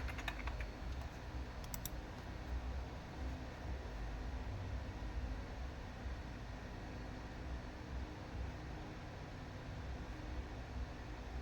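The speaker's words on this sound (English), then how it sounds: "So you just have to type here the word" Typing on a computer keyboard: faint, scattered key clicks, most noticeable near the start, under a steady background hiss, with no talking.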